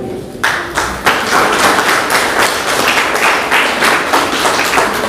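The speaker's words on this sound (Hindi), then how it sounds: "तो आप सभी अपने लिए एक बार तालियां बजाएं।" A live audience at a speech event claps for itself, a dense, loud burst of applause that starts sharply and holds steady with many overlapping hand claps.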